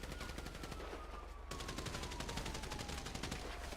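Rapid sniper and automatic gunfire in a GTA video game shootout, dense continuous bursts of sharp shots throughout, loud and close with no talk.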